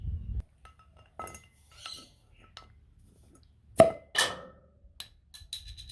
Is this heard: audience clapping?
no